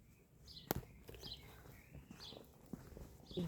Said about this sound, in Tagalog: Oy, nandyan yung kabayo.